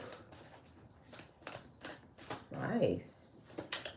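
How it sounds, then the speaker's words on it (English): A deck of cards shuffled in repeated quick riffles, producing several short crisp rattling bursts close by amid quiet pauses. "Let's shuffle and shuffle."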